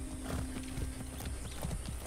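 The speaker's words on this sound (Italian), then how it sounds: "c'è un cavallo, possiamo utilizzare il cavallo" Horse hooves clip-clopping in the Far Cry 6 game, a quick rhythmic series of hoof knocks at a fairly brisk gait, heard alone at moderate volume.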